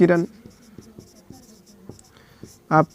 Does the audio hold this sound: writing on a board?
yes